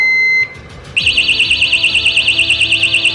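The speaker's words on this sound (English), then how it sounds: "If somebody messes with this, it'll start beeping, and then this alarm's going to go off." A short electronic beep from a tamper alarm gives way, after a brief pause, to a loud, piercing alarm that warbles rapidly up and down without stopping.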